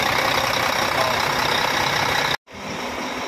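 A Howo NX 400-horsepower truck engine, a 2023 model, idles steadily and loudly at close range, with a brief cut in the sound near the end before the rumble returns.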